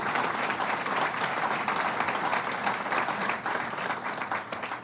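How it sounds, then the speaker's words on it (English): An audience at a governor's announcement for a therapeutics research center applauds, a full, sustained round of clapping lasting several seconds with only slight swells. "Let's give him another big round of applause"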